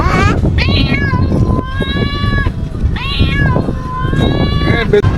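Two drawn-out electronic-sounding cat meows from a pet translator app, each rising then holding a long wavering tone, loud and close, with a busy background underneath.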